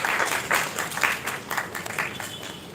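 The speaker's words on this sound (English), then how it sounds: "Please give a round of applause for our Shantika's mate." Audience applause at a graduation ceremony as a graduate collects a certificate, a steady patter of many hands clapping at moderate distance, with rhythmic swells throughout, no talking.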